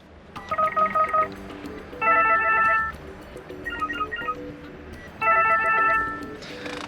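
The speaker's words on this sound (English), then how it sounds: "Here you can change volume of the ringtone" Ringtones of a 2006–2012 Volvo C30 car phone play in short bursts of bright electronic tone melodies, four separate snippets separated by brief pauses, heard up close inside the car.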